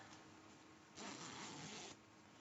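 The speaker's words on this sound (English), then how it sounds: "I'm going to check to make sure that my zipper can open and close with ease." A zipper on a sewn fabric pouch is drawn along once in a single smooth, quiet rasp lasting about a second, close by in an otherwise hushed room.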